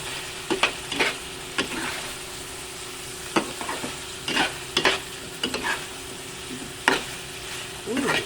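Potatoes frying in a pan for a chicken liver and gizzard adobo, a steady sizzle broken by repeated scraping and stirring clinks of a utensil against the pan, close and fairly loud with no talk.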